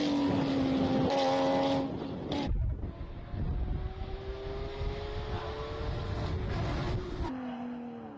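A classic BMW 325 iS race car screams away from a hill climb start line, engine revving hard through several gear changes. It stays loud and close before the note drops and fades as the car pulls away.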